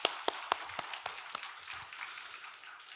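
Church congregation clapping during a Korean Palm Sunday worship service to welcome visiting members of a Cambodian mission church: scattered, uneven claps over a soft crowd wash that fades within a few seconds.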